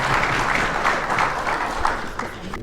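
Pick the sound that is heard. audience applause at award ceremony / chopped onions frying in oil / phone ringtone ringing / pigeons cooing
audience applause at award ceremony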